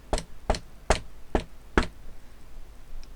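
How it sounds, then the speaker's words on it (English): Five firm knocks on a door come in an even, unhurried rhythm, close and distinct, followed by quiet with nothing else heard. "There was another knock at the door."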